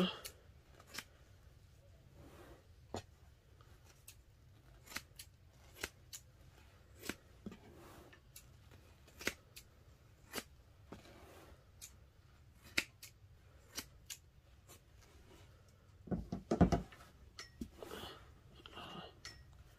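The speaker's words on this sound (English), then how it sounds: "These are my everyday fabric scissors" Fabric scissors cut through fabric in a quiet room, a long series of faint, crisp snips at an irregular steady pace, ending in a brief denser cluster of clicks.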